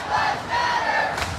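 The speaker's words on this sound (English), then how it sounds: "The crowd is still coming around the corner." A street protest crowd marching in Charlotte, North Carolina during the June 2020 George Floyd protests chants Black Lives Matter in unison, the voices steady and massed, rising and falling in repeated phrases a short distance away.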